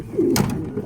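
A hen pigeon gives a single short, close coo, a brief low throaty call with a soft breathy burst in the middle.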